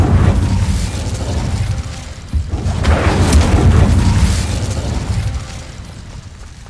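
Incendio fire spell cast in the Hogwarts Legacy video game, heard as a loud sustained fiery burst with deep booming rumble and a sharp pop midway, continuing for several seconds.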